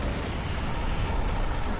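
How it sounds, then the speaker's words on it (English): A missile impact explosion in the F-22 Raptor flight combat game rumbles as a dense, sustained broadband roar, loud and steady throughout with no talk. "Missile impact."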